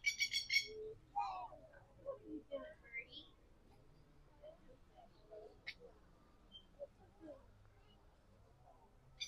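Birds call inside a large walk-through aviary at Busch Gardens Tampa: scattered chirps and short tweets, faint and spread out over a quiet background with low murmurs.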